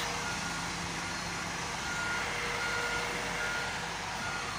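A bus reversing on a street, its backup alarm beeping steadily amid continuous traffic rumble and broadband road noise, heard from nearby with no talking.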